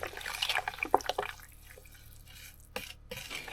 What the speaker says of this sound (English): I'm just going to do a little mix around just to get the coffee incorporated in there.